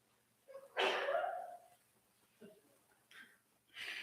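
A single loud sneeze up close, followed by a couple of softer sniffs and breaths.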